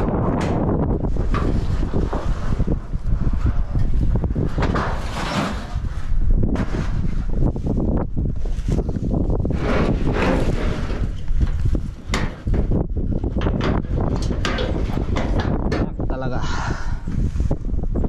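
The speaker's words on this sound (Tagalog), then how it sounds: "Mahangin na." Strong gusty typhoon wind roars and buffets the microphone throughout, with people talking intermittently under the rushing noise.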